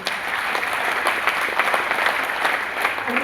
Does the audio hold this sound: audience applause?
yes